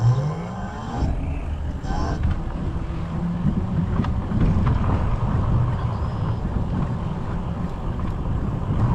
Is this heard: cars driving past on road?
yes